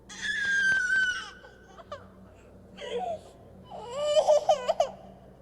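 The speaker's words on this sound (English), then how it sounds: "they were awoken quite suddenly by the sounds of what some would say sounded like an infant crying" An infant's cry heard alone at night in a house, rising and falling wails in two bursts with a quiet gap between, fairly close and clear.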